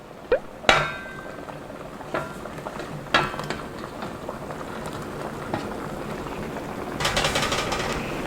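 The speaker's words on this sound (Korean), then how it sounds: "국이 세게 끓죠." Seaweed soup with mugwort dumplings and dried and fresh shiitake mushrooms boils hard in a pot on a strong gas flame, a bubbling rumble broken by clinks of a lid and utensils, with no talk.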